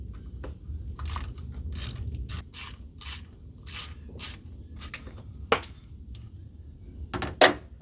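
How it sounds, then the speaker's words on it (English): A ratchet wrench works 10mm bolts loose on the air pump of a 1994-96 Cadillac Fleetwood, sounding as close, repeated bursts of rapid clicking separated by short pauses, with a few sharper metallic taps near the end. "There's a bolt there, 10mm, bolt there, and a bolt on the top. I'll just pull them all out and be done with this thing."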